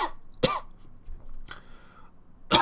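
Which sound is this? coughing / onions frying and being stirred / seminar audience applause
coughing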